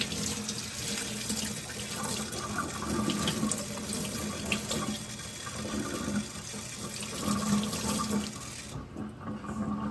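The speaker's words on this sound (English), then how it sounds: "I'm just gonna clean it by cutting the ends and then washing it in the sink" Tap water runs steadily into a kitchen sink as onions are washed, with continuous splashing and gurgling close by that eases slightly near the end.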